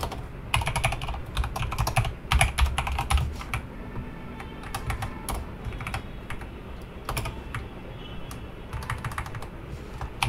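Steady computer keyboard typing while writing Go code for a web scraper, with rapid irregular key clicks and occasional bursts of quicker strokes, close and clear, no voices.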